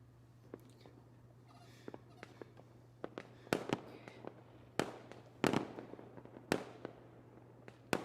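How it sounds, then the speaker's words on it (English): Fireworks set off by protesters pop and crack at a distance, a series of irregular sharp bangs that grow denser and louder midway, over a steady low hum with no talking. "The protesters are setting off fireworks."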